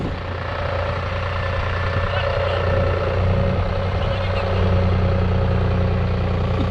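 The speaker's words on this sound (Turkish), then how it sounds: "Neola T580B Üst silindirli bir motor var arkadaşlar bunda." A New Holland T580B backhoe loader's overhead-cam engine runs at a steady, loud, close idle-like drone, with a low rumble throughout and someone talking over it.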